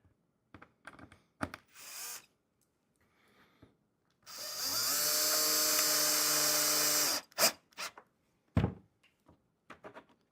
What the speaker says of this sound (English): So we're going to drill each latch in.